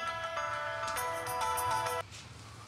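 Phone ringing in an Egyptian drama series, a faint electronic ringtone melody with bright repeating tones that swells briefly and then cuts off, no talk over it.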